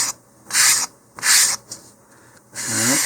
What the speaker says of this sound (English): I'm going to use some 150 grit sandpaper. I'm going to start by just kind of flattening out the corners a little bit of those edges.